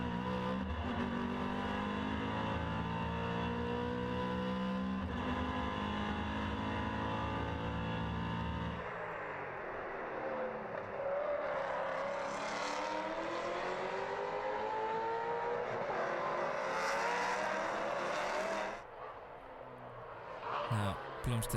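Maserati Trofeo race cars howl around the Red Bull Ring, loud engines revving and shifting pitch as they pass and accelerate, with a commentator talking over the racing throughout.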